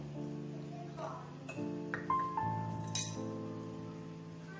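A spoon clinks against a cup while sugar is stirred into milk, giving several bright taps and rings over a steady tonal background, with a voice speaking throughout.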